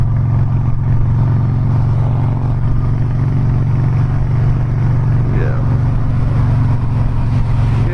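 A Harley-Davidson Softail motorcycle being ridden through a campus in Raleigh, North Carolina, its engine a steady low rumble with wind noise, close and continuous for the whole stretch.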